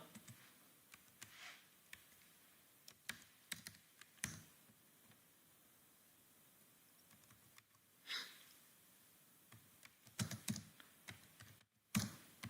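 An email address and password being entered on a computer keyboard: soft, irregular bursts of key clicks with brief pauses between them, quiet and close, with no voices.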